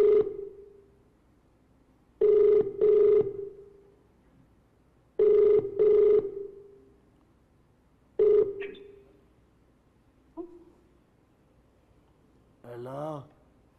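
A telephone rings unanswered on a live call-in TV game show, with four rings, mostly paired bursts spaced a couple of seconds apart. Brief voices follow at the end.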